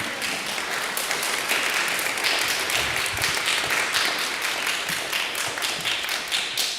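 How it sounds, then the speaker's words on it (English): A chorale concert audience applauding, with dense, sustained clapping from a large crowd that continues evenly throughout. "Give yourselves a round of applause."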